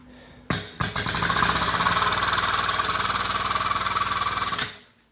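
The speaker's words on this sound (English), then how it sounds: "So I'm gonna run it up and see. So we're just gonna hit the pump." A powered pump starts abruptly and chugs in a rapid, loud, even pulse for about four seconds while raising an OTC 1585A power train lift with tilting plate, then winds down.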